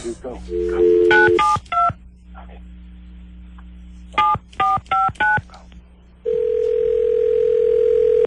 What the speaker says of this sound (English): let me dial her up